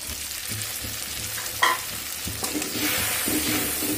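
Mustard and green chilli paste tipped into onions frying in a pan for a Bengali aubergine dish, giving a loud, close, steady sizzle with stirring scrapes and a brief clatter.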